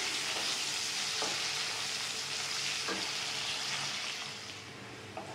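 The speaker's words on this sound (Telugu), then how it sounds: "మనకి ఉల్లిపాయలు, పచ్చిమిర్చి అయితే ఫ్రై అయిపోయాయండి." Chopped onions, green chillies and curry leaves fry in a pan, giving a steady, dense sizzle with a few light stirring knocks, close up. It quietens slightly near the end, and no one speaks.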